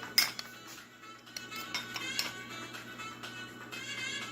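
A spoon clinks against a container while scooping sugar for a sweet and sour chicken sauce, giving several light metallic taps spaced a second or so apart over a quiet kitchen hum.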